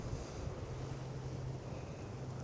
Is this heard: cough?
no